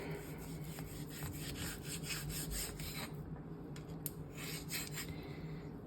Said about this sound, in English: And probably will get as far as I get tired of trying to slice this meat.